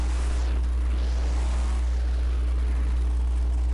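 Mega truck engine in the video game Monster Trucks Overdriven, a loud droning rev with a heavy low hum and a sweeping rise and fall in pitch, heard alone without talk.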